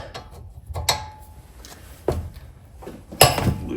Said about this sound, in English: loosening the caliper bolts. Ugh. Use my big wrench.